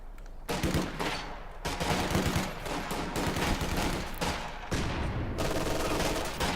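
Sustained bursts of soldiers' gunfire in the Company of Heroes 2 battlefield, dense overlapping rifle and machine-gun shots rattling continuously with brief gaps, moderately loud and without talk.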